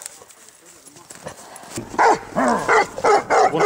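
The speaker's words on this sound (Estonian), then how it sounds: "Koer pani juhu! Tubli koer!" During a moose hunt, a Weimaraner dog bays in a loud, rhythmic series of deep barks about once every half second. Faint rustling comes before the barking starts.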